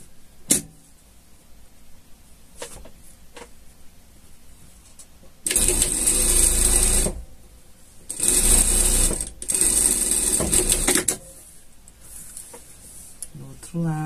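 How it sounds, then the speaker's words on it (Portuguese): Sewing machine stitching a seam across the front and armholes of a women's pet vest, running in three loud bursts of a couple of seconds each, separated by quieter handling noise. "a gente vai passar uma costura aqui na frente, aqui, aqui e nas cavas"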